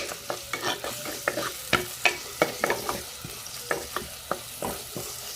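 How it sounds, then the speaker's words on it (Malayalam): Sliced onion fries in coconut oil while being stirred for a country-style chicken curry, with rhythmic spoon scrapes and knocks against the pan, roughly two per second, over a soft, continuous sizzle. "ഞാനിവിടെ ഒരു സവോള കട്ട് ചെയ്തിട്ടുണ്ട് ഇത് ഇട്ട് നല്ലതുപോലെ മിക്സ് ചെയ്ത് കൊടുക്കുക"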